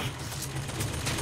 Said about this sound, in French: Ah mais c'est la mitrailleuse de là-bas?